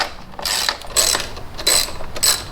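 A hand ratchet working loose 12mm bolts on a Honda Grom rear fender, three or four loud, close bursts of rapid clicking, each about half a second long, separated by short pauses, with no voices.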